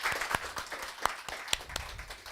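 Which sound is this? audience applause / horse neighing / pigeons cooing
audience applause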